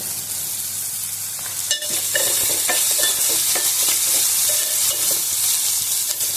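Onions fry in a pan with a loud, continuous hissing sizzle, close by, with scattered clinks of stirring throughout and no voices.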